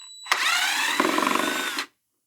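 A power drill backs screws out of a 2020 John Deere Gator XUV 590M, with one loud, close whirring run of about a second and a half that changes pitch midway and then cuts off abruptly.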